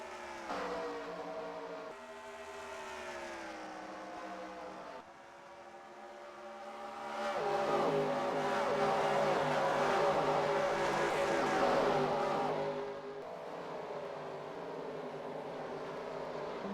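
Engines of NASCAR stock cars racing at Dover in a 2003 racing video game, a steady droning whine that rises and swells into a louder pack roar midway, then eases, with faint commentary in the background.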